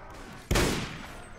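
A single loud rifle shot rings out in Mount & Blade Warband with the Red Wars mod, a sharp close blast followed by a decaying tail, with no talk over it.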